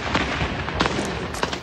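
Artillery fire rumbles over a war zone in the West Bank, where houses are pouring smoke, heard as a continuous loud roar broken by several sharp booms and cracks.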